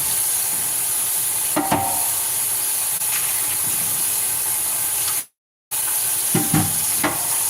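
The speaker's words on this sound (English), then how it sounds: "But I gotta clean this skillet out." A hot skillet being cleaned out gives off a steady hiss of sizzling steam, with occasional scraping and clanks over the constant noise and a short dropout partway through.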